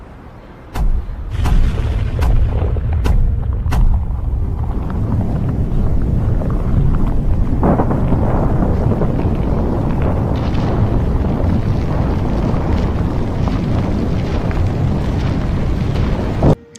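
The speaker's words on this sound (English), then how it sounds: "Let us take a look at an implosion." Building implosion demolition: a rapid series of sharp charge blasts crack out one after another, followed by a long, heavy, roaring rumble of the structure collapsing that fills the rest of the scene, loud and distant.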